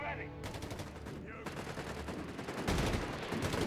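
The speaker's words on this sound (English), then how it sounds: "Gunny's moved north, backed up with that machine gun gewehr." Sustained automatic gunfire from a German machine gun position in Company of Heroes 3, a dense continuous rattle of rapid shots that swells louder toward the end, with battlefield noise layered throughout.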